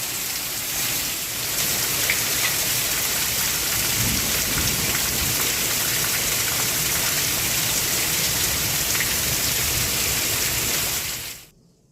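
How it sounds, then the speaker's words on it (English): Heavy pouring rain in a Texas thunderstorm, a dense constant downpour drumming loudly for the whole stretch with low rumbling underneath, no voices. "It is pouring."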